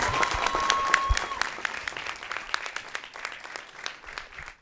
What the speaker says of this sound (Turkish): Mügeciğim, Kocaman hadi bir alkış sen de alalım.